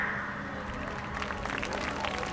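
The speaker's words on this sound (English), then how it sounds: "if you're gonna clap, wait until the person worth clapping for takes the stage" An audience claps steadily at an event, a dense wash of applause from many hands at moderate distance, growing slightly livelier toward the end.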